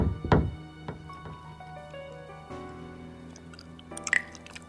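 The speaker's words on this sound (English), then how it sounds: "You can hear someone chewing something." Someone chewing in the point-and-click game Frequency Missing, inside an office: soft, wet bites and munching, one louder crunch near the start, then quieter chews over a steady low electronic hum.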